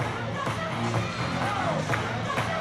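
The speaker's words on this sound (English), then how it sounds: "Listen to this crowd." Baseball stadium crowd at an Indianapolis Clowns vs Party Animals game in Memphis, a steady loud roar of many voices with scattered cheers and shouts, continuous throughout with no single voice standing out.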